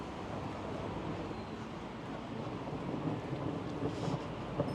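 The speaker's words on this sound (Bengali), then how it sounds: "ভালোই ঠাডার আওয়াজ শোনা যাচ্ছে" Far-off thunder rumbles low and steady in Kazakhstan before rain, a soft continuous roll beneath faint outdoor ambience, with no talking.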